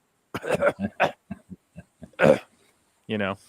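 A voice makes a harsh, exaggerated coughing sound after a stretch of talk, close up and loud, ending in a rough rasp.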